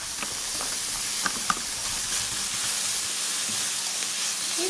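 A steady, even hiss of bacon frying in a pan with dehydrated vegetables, with a few faint pops and crackles scattered over the continuous sizzle and no voices.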